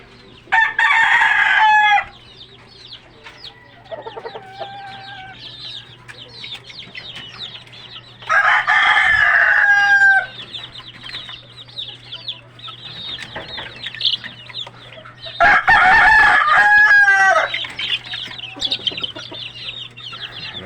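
Backyard chickens with young chicks: a rooster crows loudly three times at spaced intervals, with softer clucking and chirping from the flock in between and no talking.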